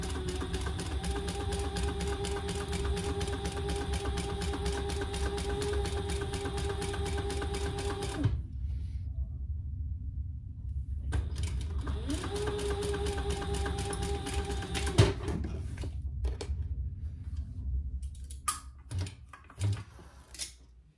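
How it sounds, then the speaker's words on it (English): A sewing machine stitching a quarter-inch seam on a bag project runs steadily for about eight seconds, stops, then runs again for a few seconds, with soft handling clicks and fabric rustle at the end. "let's sew that at 1/4 inch seam allowance"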